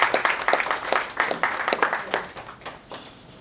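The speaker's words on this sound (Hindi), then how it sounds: "जोरदार तालियां एक बार मैम के लिए।" An audience at a social organisation event claps loudly for a chief guest being welcomed with a bouquet. The clapping is brisk and uneven and tapers off within a few seconds.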